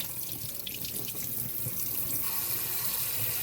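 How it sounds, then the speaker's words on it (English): A kitchen tap runs into a sink while cucumbers are rinsed under the stream, a steady close splashing rush with small shifts as the vegetables move through the water, and no voices. "Let's get those cucumbers washed."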